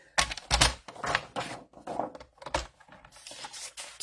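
Paper trimmer or scissors cutting a sheet of patterned designer paper for a Stampin' Up! card, a series of close crisp slicing and clicking sounds in quick irregular succession.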